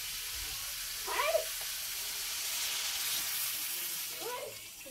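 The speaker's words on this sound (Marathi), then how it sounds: "मी आता ह्याच्यामध्ये पाणी घालते" Lukewarm water pours into a cooking pot in a steady rushing stream for several seconds, with a couple of brief tonal cries rising above it.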